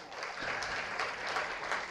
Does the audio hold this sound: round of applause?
yes